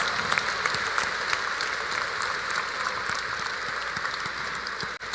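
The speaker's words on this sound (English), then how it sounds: "Let us all give our new lawyers a warm round of applause." A large audience applauds new lawyers at a bar oath-taking ceremony, a dense, sustained wash of clapping that holds steady and loud throughout before cutting off abruptly at the end.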